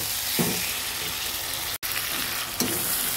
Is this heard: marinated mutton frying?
yes